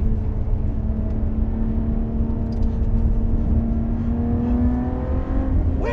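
A Lotus Evora 400 sports car engine hums steadily at a high, rising pitch from inside the cabin, climbing slowly as it revs, loud and continuous with no talking.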